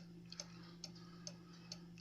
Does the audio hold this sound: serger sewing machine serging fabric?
no